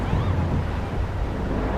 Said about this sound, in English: It's a very windy, rainy night.